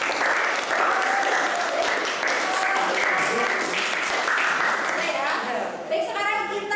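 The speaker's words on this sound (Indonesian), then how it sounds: "Berikan dulu tepuk tangan untuk seluruh" A classroom of students claps at the end of a lesson, dense and continuous applause over a few seconds before it fades as a voice begins speaking near the end.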